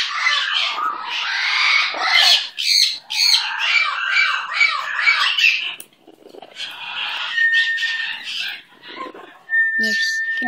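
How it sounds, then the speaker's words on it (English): A pet bird squawks loudly and repeatedly close by in a new place, with harsh raspy calls in bursts, brief pauses, then more squawks and a few thin whistles near the end. "he's a beautiful bird."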